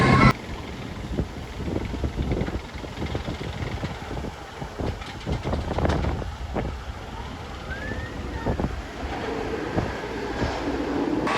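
A ride on Montu, a B&M inverted roller coaster at Busch Gardens, brings a steady roar of wheels on track and rushing wind buffeting the microphone, loud and continuous.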